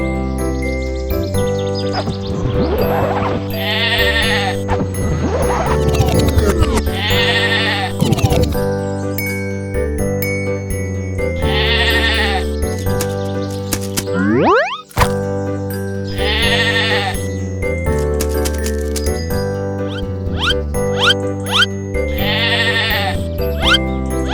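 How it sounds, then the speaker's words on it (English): Sheep penned together bleat repeatedly, with several wavering calls rising over a steady musical backing that runs throughout. "There are 10 sheep inside the pen."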